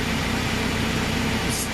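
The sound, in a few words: Antonio Carraro TR7600 tractor engine revving up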